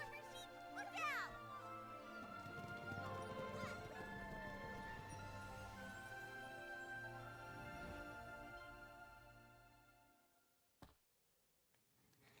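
Hooves of a horse-drawn carriage clip-clop steadily in the fantasy game Infinity Nikki, mixed with music, a horse whinny and other game effects, then cutting to near silence with a single click near the end.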